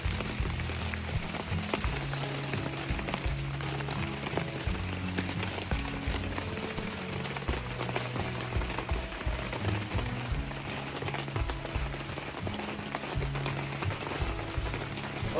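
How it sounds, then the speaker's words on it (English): Rain falls steadily at a campground near Florala on the Florida–Alabama state line, a dense continuous patter close by with soft irregular thumps and no voices. "When we got to the campground, it started to rain."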